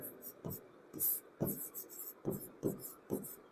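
A pen scratches out a maths solution on paper in short bursts of strokes with brief pauses, close and quiet, while a voice speaks softly.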